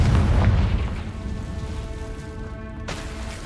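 A Confringo fire spell in Hogwarts Legacy detonates with a loud booming blast that fades over a few seconds into a hissing, crackling tail, followed by a faint tonal shimmer near the end.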